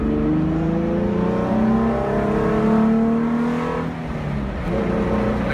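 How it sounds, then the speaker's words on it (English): Car engine intake roaring as the car accelerates from a green light, a steady broad drone with rising engine tones that dip briefly near the end, loud and close with no talking. "I can hear the intake more."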